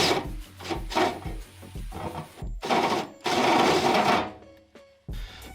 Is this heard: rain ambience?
no